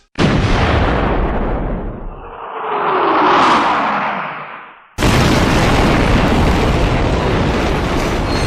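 A huge explosion set off after a shouted warning erupts in a loud, sustained roaring blast, swells into a rushing whoosh, then bursts again into a second dense roar, with no talking.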